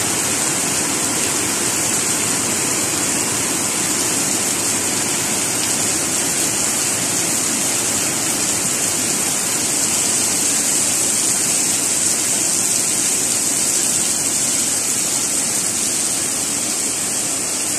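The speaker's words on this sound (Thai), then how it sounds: "ฝนตกอีกแล้วนะคะเพื่อนๆชุ่มฉ่ำนะคะชุ่มฉ่ำเลยวันนี้ฝนตกลงมา" Heavy rain falling, a loud, dense, unbroken hiss of water that stays steady and close throughout with no voices.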